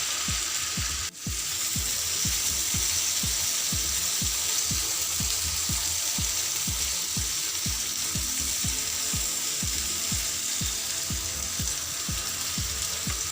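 Green chillies frying in hot oil with ginger garlic paste for an instant green chilli pickle give a steady, loud sizzle throughout, with soft rhythmic low thumps repeating under the frying.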